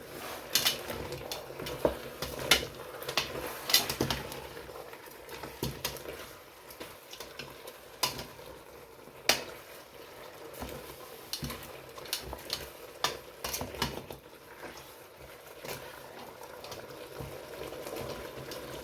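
Vegetable and mutton sauce with ground paprika being stirred in a pot, a steady soft bubbling hiss broken by irregular scraping clicks throughout, close and fairly quiet, with no voices.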